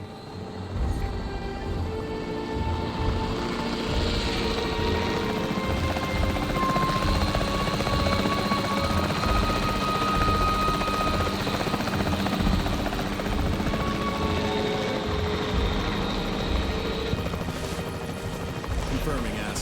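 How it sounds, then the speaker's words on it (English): Capture team helicopter in the Jurassic World video game, a continuous loud rotor drone holding steady throughout, with faint game voices speaking underneath. "The priority needs to be tranquilizing it with the capture team chopper."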